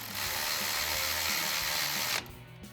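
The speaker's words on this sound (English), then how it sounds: "Tighten that down with our 10mm." A 10mm ratchet whirs in one continuous, close buzzing run of about two seconds while tightening a wheel speed sensor bracket bolt on the upper control arm of a 2007-2021 Toyota Tundra. It then stops abruptly.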